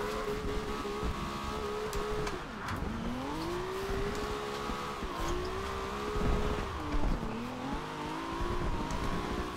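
A Nissan 300ZX drifting in the video game Forza Horizon 2, its engine droning and revving up and down continuously with tire squeal, the pitch dipping and climbing through the slides.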